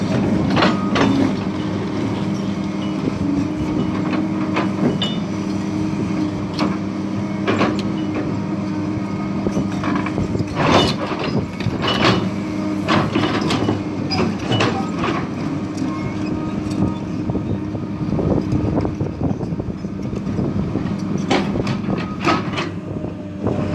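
A Cat 318CL excavator working on a drainage job, its bucket scraping and clanking over concrete in repeated uneven strokes above a steady engine drone, with sharp metallic knocks scattered throughout.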